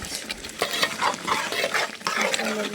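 Beef cooks down with chili over a clay stove, close stirring scrapes and wet sizzling in a rhythmic series of strokes, moderately loud.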